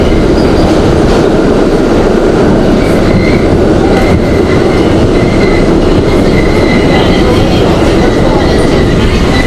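Budd R32 subway car on New York's 8th Avenue Line running steadily, with a loud, continuous rumble of wheels on rail, faint clickety-clack and brief high squeals throughout, no voices.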